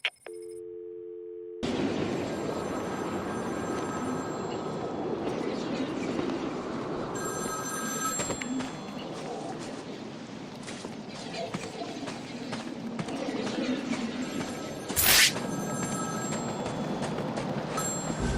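A telephone rings in Batman: Arkham City, repeating electronic trills set against a steady, dense backdrop of in-game city ambience, with a brief sharp burst near the end.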